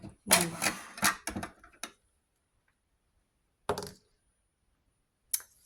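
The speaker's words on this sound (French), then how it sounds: "Petit lancement de dés." Clattering rattles of dice tumbling, several quick bursts followed by two isolated knocks after a pause.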